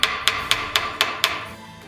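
Six evenly spaced sharp hammer strikes planish brass bikini cups, each a bright metallic ping with a short ring, close and alone, followed by a quiet tail.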